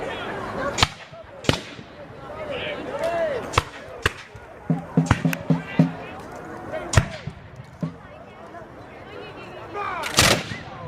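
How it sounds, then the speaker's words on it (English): British artillery firing in a re-enactment of the 1813 Battle of York: a series of sharp, loud booms and cracks spaced irregularly across the scene, over a background of outdoor crowd noise and voices. "British artillery has come into action in the battle now."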